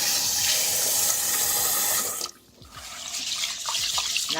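Tap water runs steadily into a bowl of rice being rinsed for Japanese-style fried rice, a loud continuous splashing that drops away briefly, then returns with lighter trickling and swirling.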